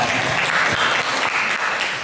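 Applause for Bu Chandra in a classroom, a short burst of brisk, steady clapping from a group that stays loud throughout.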